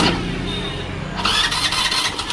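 A Hero Maestro scooter engine cranks and then catches, the steady starter whir giving way to a louder running engine at about the one-second mark, heard up close with no talking.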